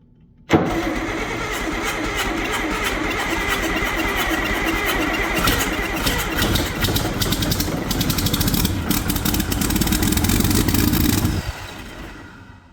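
An engine with a freshly bled fuel filter and a little starved for fuel cranks and fires, then runs loudly and steadily for about eleven seconds before being shut off and dying away.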